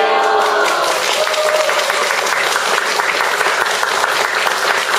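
An audience applauds to welcome a poet onstage at a Korean literary talk event. Dense, lively clapping from many people fills the room evenly for several seconds.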